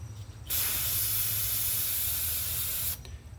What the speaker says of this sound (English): Spray a little bit more starting fluid,